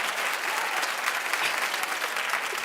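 Studio audience at a daytime talk show breaks into steady, full applause, a dense even roar of clapping hands at close range that holds without pause for the whole stretch.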